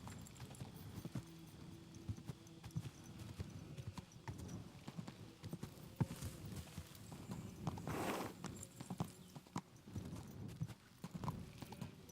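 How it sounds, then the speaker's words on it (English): Steady clip-clop of horse hooves at a trot in Kingdom Come: Deliverance II, continuous and fairly close, with a brief rushing swell midway and no talking. "Easy, good horse."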